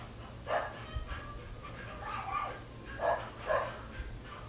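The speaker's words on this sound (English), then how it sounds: "I apologize for my dogs barking in the background" Several dogs bark in short bursts from another room, muffled and moderately distant, over a low steady hum.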